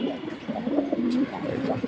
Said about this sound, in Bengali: এটা বেজি লাইনের কবুতর